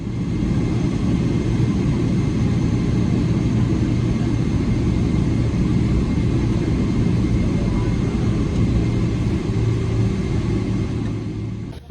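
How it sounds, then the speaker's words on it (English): Steady, loud cabin rumble inside a Philippine Airlines Boeing 777-300ER, a constant broadband engine and airflow drone that holds unchanged from start to finish with no voices. "let's enjoy the final moments that we have in this Philippine Airlines Boeing 777-300ER"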